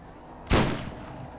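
A single sharp sniper rifle shot in the Borderlands video game, a sudden loud crack followed by a short decaying rumble, with faint background sound before it.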